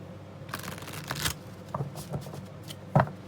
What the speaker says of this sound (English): I'm going to live shuffle using the Golden Girls tarot cards.